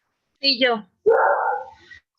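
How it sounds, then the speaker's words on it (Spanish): Neighbours' dogs bark and whine in a short burst of two or three yelps, close but somewhat muffled, overlapping a person speaking briefly. "perdón por los perros de mis vecinos"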